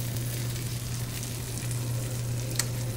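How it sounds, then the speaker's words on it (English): Steady, soft sizzling and crackling of Hawaiian sweet roll stuffing with Italian sausage frying in a hot pan, continuous and close, with a low hum underneath and no talking. "the stuffing sizzle."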